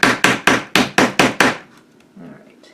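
A hammer taps the corner of a gallery-wrapped painting on watercolor paper, giving seven sharp, evenly spaced knocks close up, then a brief quiet rustle of handling.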